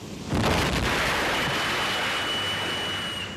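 A ship's engines blowing up during a storm at sea: a sudden loud, broadband blast that swells into a sustained roaring rumble and hiss, holding steady for several seconds with no voices.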